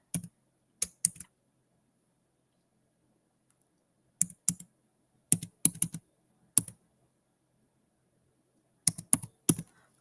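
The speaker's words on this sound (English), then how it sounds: "I'm just going to type it in here." Sharp keystroke clicks on a computer keyboard come in short bursts separated by long silent gaps, loud and close with no talking.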